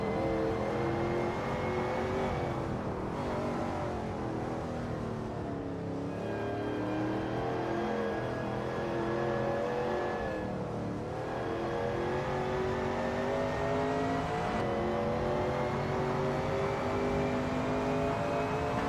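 A Shelby Cobra 351 at full tilt on a qualifying lap around Bridgehampton in a racing game, engine note rising and falling steadily through gear changes, continuous and close with no voices.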